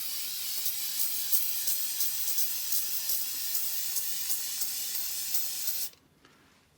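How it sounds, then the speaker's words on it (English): Testors spray adhesive hissing lightly from an aerosol can in soft pulsing bursts, a steady close airy spray that stops abruptly near the end, followed by near silence and a small knock. "I'm just going to spray this lightly."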